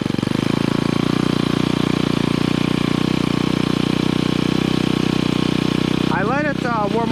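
A Ryobi 30cc 4-cycle straight-shaft gas string trimmer engine idles steadily at half choke, a loud, even buzzing drone throughout; a voice briefly speaks over it near the end.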